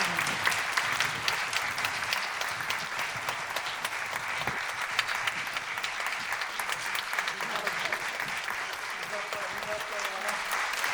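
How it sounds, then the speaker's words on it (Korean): An audience at a traditional performing arts event applauds for the teachers, broad continuous clapping from a crowd with faint voices mixed in throughout. "선생님들 위해서 박수 한번 주십시오"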